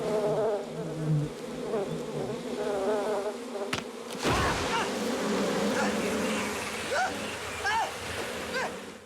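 A dense, continuous buzzing of many honeybees swarming around a person fills the air close by, with a sharp knock partway through.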